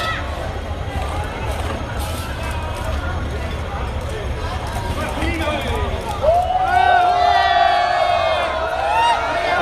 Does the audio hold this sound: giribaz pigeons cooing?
no